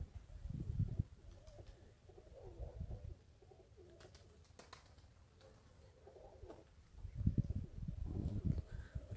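Domestic pigeons at a loft coo softly in low, throaty bursts at the start and again near the end, close but faint, with a few light flutters and clicks in between and no talking.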